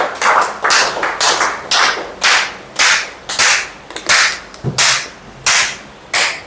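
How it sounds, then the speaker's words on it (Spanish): Rhythmic, sharp hand claps from a church congregation in a Spanish-language evangelical service, a series of loud, evenly spaced bursts, close and with no talking. "Denle un aplauso al Señor."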